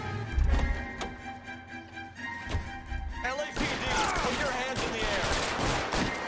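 Gunfire erupts in L.A. Noire during a car chase shootout, scattered shots giving way to dense rapid bursts and a loud ringing clatter, with engine and game music underneath.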